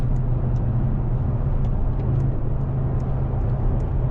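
Mercedes-AMG CLE 53 coupe, 2026 Limited Edition with 449 PS and speed shift transmission, heard from inside while driving: a steady, loud low engine hum and road rumble, continuous with no talk.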